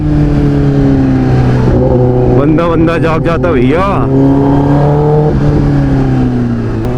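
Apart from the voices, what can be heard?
Kawasaki ZX-10R motorcycle engine roaring and revving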